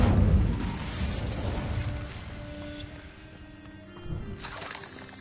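A fire spell cast in a Harry Potter video game, a loud whooshing burst with crackling and rumble at the start that fades out, followed by softer magical chimes and a brief swell near the end.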